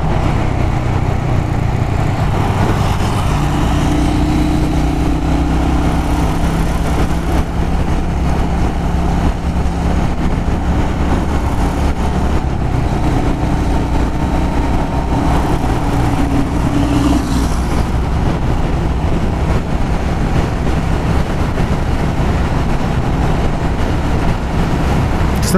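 A Royal Enfield Hunter 350 motorcycle engine drones steadily while riding along a mountain road through the Serra de Campos do Jordão, a continuous close rumble with wind noise and slight shifts in pitch, no talking.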